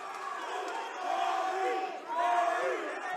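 A crowd at a Cage Titans MMA event chants loudly in rising and falling waves, with a commentator talking over it.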